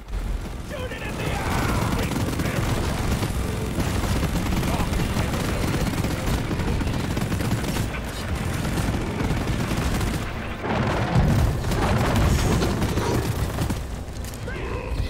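Dense, sustained gunfire and booms from a co-op mining dive in Deep Rock Galactic with a horde mod, loud and continuous throughout with bursts swelling near the end, mixed with other game noise.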